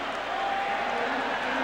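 A large football stadium crowd at a 1994 Monday night game, Chicago Bears at Philadelphia Eagles, cheering and applauding in a steady, loud wash of noise with no breaks.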